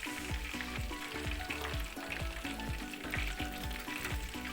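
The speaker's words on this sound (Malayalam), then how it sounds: "ഇതുപോലെ തന്നെ നമുക്ക് മറ്റ് രണ്ട് പീസും ഫ്രൈ ചെയ്ത് എടുക്കണം" Homemade chicken fry, with chicken pieces crackling in hot oil. The sizzle is steady and close, broken by a regular pattern of light clatters and pops.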